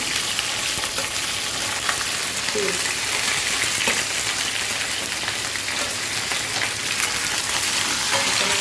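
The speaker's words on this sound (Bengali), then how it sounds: "অল্প একটু লবণ অল্প একটু হলুদ দিয়ে ভেজে নেব" Onion, potato and eggplant fry in a pan with a little salt and turmeric, giving a steady, dense sizzle that holds evenly throughout with faint scraping stirs.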